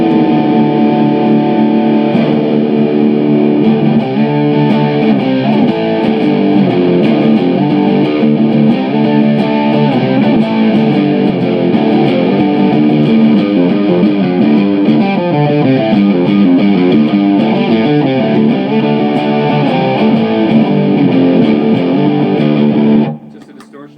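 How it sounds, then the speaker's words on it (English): A Taylor electric guitar played through a distortion pedal fills the space with loud, sustained overdriven chords and riffs, continuous for the whole stretch before cutting off abruptly at the end. "Just a distortion pedal."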